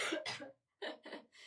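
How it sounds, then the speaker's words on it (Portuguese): Several coughs: two harsh bursts, a short pause, then three more, near and fairly loud, with no talk over them. "Desculpa que é a tosse."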